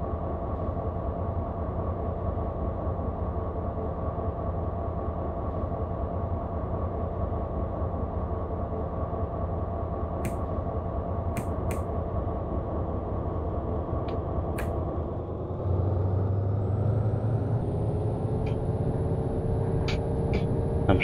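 Continuous rumble and hum of an accelerating train in Train Simulator 2020 on the Oberstdorf to Immenstadt line, steady and fairly loud, with a shift in engine tone partway through and brief faint clicks.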